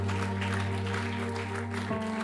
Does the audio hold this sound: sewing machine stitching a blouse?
no